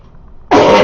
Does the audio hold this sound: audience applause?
no